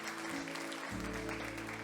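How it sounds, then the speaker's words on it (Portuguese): A church congregation applauds together, a steady dense wash of clapping blended with sustained instrumental tones from the worship band, loud and continuous throughout. "Quem entendeu a palavra, fica de pé e aplauda, Senhor"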